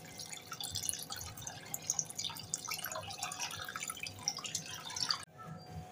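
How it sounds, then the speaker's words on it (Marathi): Water splashes and trickles into a pan of Aagri Koli style prawn curry being made into gravy, a soft irregular dribble that stops briefly near the end. "आपल्याला किती ग्रेव्ही पाहिजे तेवढं आपण पाणी घालूया"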